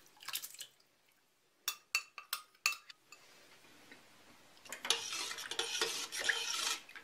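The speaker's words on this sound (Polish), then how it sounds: "Mieszam do rozpuszczenia." Metal spoon stirring softened gelatin into hot, not boiling, chicken broth in a pot for aspic: a few sharp clinks against the pot rim, then a steady swishing stir with faint sloshing.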